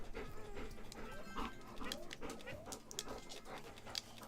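Pet dog Bo panting close by, quick rhythmic breaths with a few small whimpers mixed in, faint against a quiet room.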